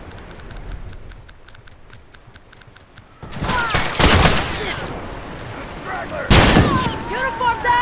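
Rifle gunfire in The Last of Us multiplayer on PS5, heard as a rapid ticking series of shots, then loud booming blasts and a heavy report near the end, with voices calling out over the action.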